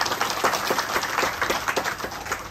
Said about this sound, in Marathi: एकदा 400 ताई आणि 400 सरांसाठी एकदा टाळ्या वाजवा सर्वांनी